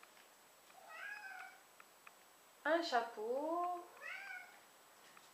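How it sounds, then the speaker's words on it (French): A house cat meows repeatedly for its food after its owner comes home, several drawn-out, rising and falling cries at close range, the loudest one in the middle, with someone speaking briefly between them. "Vous devez entendre mon chat, c'est parce qu'en fait, je viens de rentrer du travail et tout simplement, il me réclame sa pâtée."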